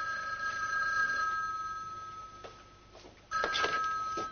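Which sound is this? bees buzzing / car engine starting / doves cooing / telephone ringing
telephone ringing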